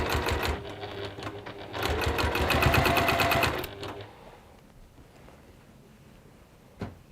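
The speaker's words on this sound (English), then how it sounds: "I'm sewing them down quite close to the edge." Sewing machine stitching pressed fabric strips close to the edge, a loud rapid mechanical chatter in several bursts that stops about halfway, leaving quiet room tone and one brief knock.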